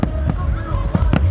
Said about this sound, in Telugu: ఫైర్ వర్క్స్ స్టార్ట్ అయ్యాయి మనకి.